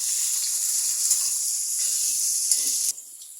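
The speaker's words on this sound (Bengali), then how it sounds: "জিরা দিয়ে দিলাম, অ্যাজ ইউজাল পেঁয়াজ মরিচ দিয়ে দিচ্ছি। একটু নাড়িয়ে নিচ্ছি।" Cumin, onion and green chili sizzle steadily in hot oil in a pan for cabbage stir-fry, a close, continuous frying hiss with faint stirring scrapes, dropping quieter near the end.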